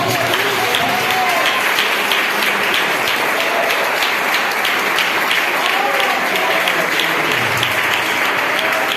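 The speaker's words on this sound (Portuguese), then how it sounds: "Palmas de forte para a gente." Church congregation at an evening worship service applauding loudly and steadily, a dense continuous wash of clapping that fills the room, with voices faintly mixed in underneath.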